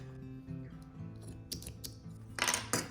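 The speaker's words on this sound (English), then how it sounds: "So once you have the thickness of your tassel, you can cut your yarn." Scissors snip through yarn cut for a crochet tassel, giving a few short, crisp cuts in a quiet room, the sharpest near the end.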